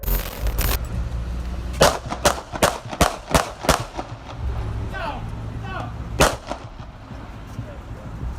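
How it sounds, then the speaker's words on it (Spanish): A burst of sharp gunshots, about six in quick succession, then a lone later shot, loud and close amid background noise and faint voices. "al mismo tiempo que se comenzaron a escuchar disparos"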